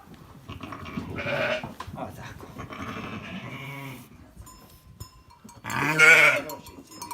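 Sheep on a small farm bleat several times, close and fairly loud, with wavering cries spread across the stretch and a few quieter animal sounds between them.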